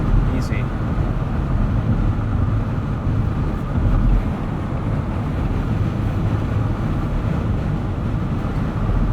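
A dense, steady low rumble fills the cabin of a 2020 Jeep Gladiator Overland 4x4 on the move, with road and wind roar holding loud and even throughout.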